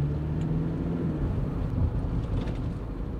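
Cars passing on a road beside a waterside spot, a continuous low rumble of traffic swelling slightly as vehicles go by, moderately loud, with no talking.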